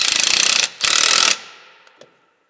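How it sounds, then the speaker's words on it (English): A clamp on the EGR hose of a Cummins ISX truck engine is tightened with a tool, giving two loud, close rattling bursts separated by a brief pause, followed by a fading ring and a couple of faint clicks. "Move the clamp on the EGR hose back into its original location and secure"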